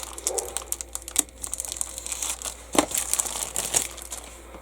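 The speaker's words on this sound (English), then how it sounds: "I am going to cut this one open because I do not want staples scratching the clear plastic." Clear plastic bag from a Tamiya 1/24 Ford Mustang GT4 model kit being cut open, with close crinkling and crackling plastic and a few sharp snips and ticks scattered through.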